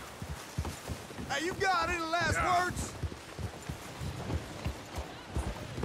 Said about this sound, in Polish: Sorry, to mój koń szaleje.